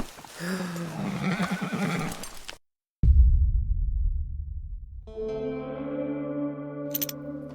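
A horse in a video game whinnies loudly with a distorted, echoing tone after a stretch of talk, followed by a steady droning musical tone.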